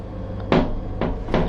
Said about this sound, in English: So here's the bathroom door